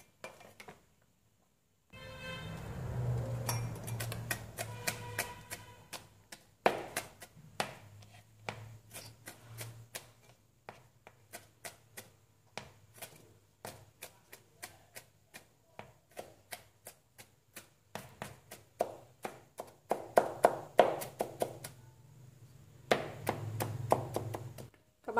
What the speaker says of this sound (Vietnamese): Tỏi các bạn cũng băm nhỏ cho mình nhé.